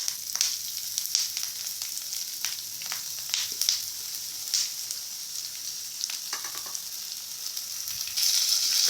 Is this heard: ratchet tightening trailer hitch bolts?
no